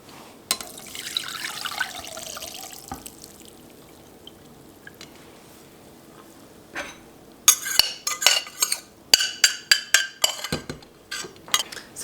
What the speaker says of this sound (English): So all I do is just kind of press it through, make sure I get as much of that liquid out.